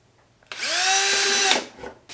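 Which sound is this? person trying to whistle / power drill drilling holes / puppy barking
power drill drilling holes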